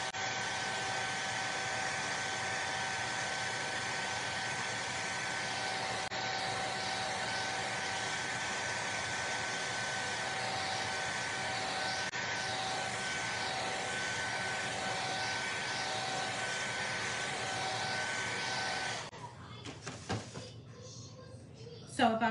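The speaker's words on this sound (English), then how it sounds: "Let's blow dry," A hair dryer blow-drying paint on a wooden porch leaner or door hanger, a steady loud whooshing hum running for about nineteen seconds before it cuts off and handling noises follow.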